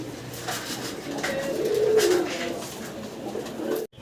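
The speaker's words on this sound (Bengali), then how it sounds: "কাকজি ইন্ডিয়ান কাগজি, কবুতর দেখতেছেন" Indian Kagji pigeons coo close by in soft, low, rolling calls that rise and fade over a faint background murmur.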